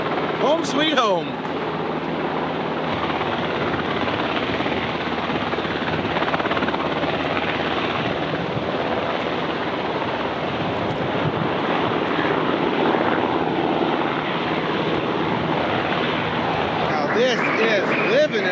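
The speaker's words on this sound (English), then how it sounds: "You see this Coast Guard helicopter." A Coast Guard helicopter passes overhead at a winter beach campsite, a loud continuous rotor and engine drone that holds steady throughout, with a brief clatter near the start and end.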